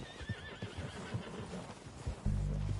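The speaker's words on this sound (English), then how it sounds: "They're coming down with the horses." Horses whinny in the Red Dead Redemption 2 video game during a story mission. A rising neigh sits over dense background noise, and a loud low rumble comes in near the end.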